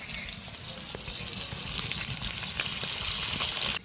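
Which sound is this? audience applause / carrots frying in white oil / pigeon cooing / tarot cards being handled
carrots frying in white oil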